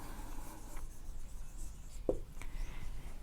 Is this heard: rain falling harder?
no